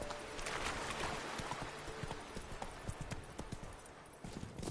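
Roach, Geralt's horse in The Witcher 3, gallops with steady, close, loud clip-clopping hoofbeats over a constant background bed of game ambience, with no talking.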